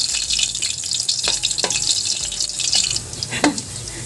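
Unpeeled garlic cloves crackle and sizzle in hot oil while frying until crispy for a fermented fish and vegetable dish, a steady close fizzing broken by a few sharp pops and clinks.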